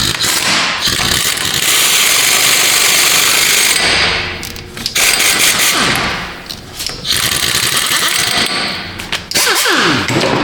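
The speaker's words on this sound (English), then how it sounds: "We'll spin that axle nut on there just a little bit." A power tool, likely an impact wrench, spins an axle nut onto a Nissan Frontier's axle, running loud and close in continuous bursts broken by brief pauses.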